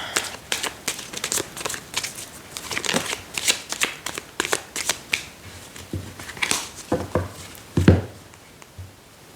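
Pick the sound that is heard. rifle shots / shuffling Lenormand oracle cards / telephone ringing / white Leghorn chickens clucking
shuffling Lenormand oracle cards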